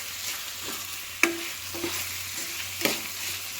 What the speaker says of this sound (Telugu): ఆయిల్లోనే బాగా ఫ్రై చేసుకోవాలండి